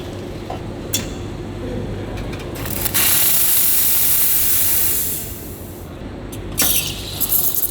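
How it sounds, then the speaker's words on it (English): An espresso machine's steam wand hisses loudly as milk is steamed for a latte, a continuous close spray of steam lasting a couple of seconds between shorter bursts, with no talk. "It is not over steaming your milk, right?"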